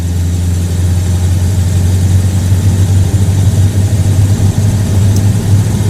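A Buick Roadmaster engine with a carburetor runs close and loud as the gas pedal is pressed. It holds a steady, deep droning hum with slight fluctuations rather than a sharp rev.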